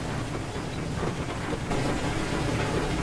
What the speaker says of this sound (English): I do understand steam trains are loud.